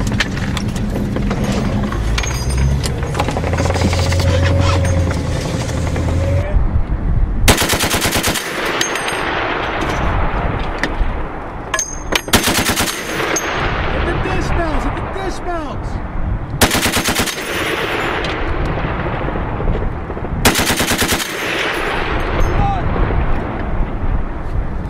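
An M2 Browning heavy machine gun fires in loud, sustained bursts during U.S. military training, the hammering reports separated by broadband blasts, with radio-style talk running underneath.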